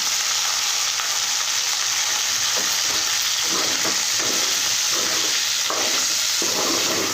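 Chicken frying in rendered fat with ground spice powder just added, making a loud continuous sizzle and hiss with soft stirring scrapes underneath.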